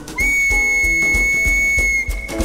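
A bright, sustained whistled note rings over a steady percussive beat in a stage rhythm musical comedy, loud and continuous for about two seconds.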